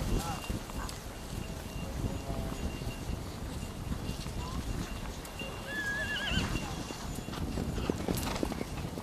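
Horses neigh and whinny while hooves clip-clop steadily across open steppe ground, a busy herd heard under a narrator's continuous voice.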